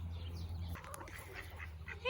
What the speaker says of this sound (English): These are wild ducks. The female here, Mallard, she comes back every year.